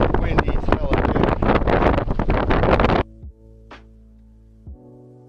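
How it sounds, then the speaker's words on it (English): Loud, roaring wind buffets the microphone for three seconds on Corregidor Island by a Spanish lighthouse, then cuts out abruptly, leaving a low steady hum and a brief noise. "Windy as hell up here."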